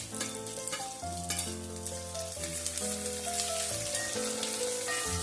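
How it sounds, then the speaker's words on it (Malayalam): Garlic, green chillies and ginger sautéing in a pan, a steady crackling sizzle with soft stirring over a musical background, fairly close and even throughout. "അതിലേക്ക് നമുക്ക് പച്ചമുളകും ഇഞ്ചിയും കൂടെ ചേർത്ത് കൊടുക്കാം."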